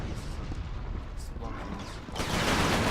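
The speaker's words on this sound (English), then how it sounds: "I'm guessing those are friendly artillery" Artillery fire in the video game Resistance: Fall of Man, a dense rumbling barrage of distant booms and blasts that swells louder toward the end, with talk mixed in.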